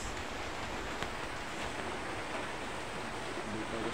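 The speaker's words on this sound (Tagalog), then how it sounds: "Umuulan, Col." Steady rain falls on a bamboo plantation and plant nursery in the countryside, a constant broadband hiss that stays even throughout with no talking.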